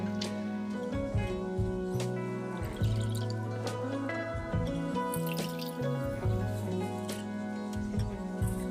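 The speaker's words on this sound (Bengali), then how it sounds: "আলুটা আমি প্রথমে জল থেকে তুলে নিয়ে অন্য একটা বড় বাটিতে রাখছি, আবার ও থেকে ভালোভাবে আমি ধুয়ে নেব।" Shoestring-cut potatoes are rinsed in a bowl of water, giving quiet, close splashes, drips and sloshing in an irregular rhythm.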